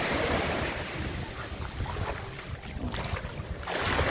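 Surf on Bavaro beach in the Dominican Republic, a steady roaring wash of waves mixed with buffeting wind noise on the microphone, continuous and fairly loud throughout.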